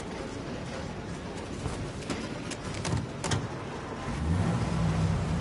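A car engine in the video game Mafia Definitive Edition runs at a steady mid pitch, then swells louder near the end as the vehicle drives on, with no talking.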